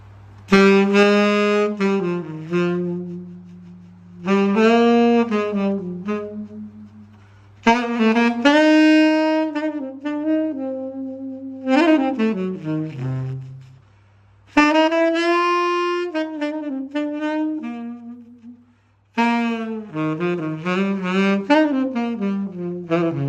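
A K-Man tenor saxophone plays a series of sustained, bright phrases alone, with short breaths between them and a steady low hum underneath.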